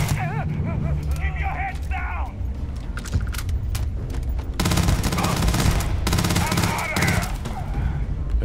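Rapid gunfire in the video game Starfield crackles in dense bursts over busy game sounds, loud and sustained, with someone talking over part of it.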